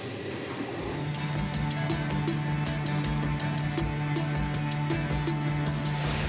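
Inside a crowded passenger train in Morocco, a steady low mechanical hum and rumble runs throughout, with faint rattles and clicks from the carriage.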